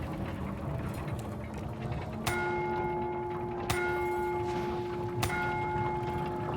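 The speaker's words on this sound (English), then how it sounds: "In Der Eisendrache, you can ring the bell in the bell tower." Bell ringing in the bell tower of Der Eisendrache in Call of Duty Zombies: three spaced, resonant clangs about a second and a half apart, each with a lingering metallic hum over a low mechanical ratcheting background.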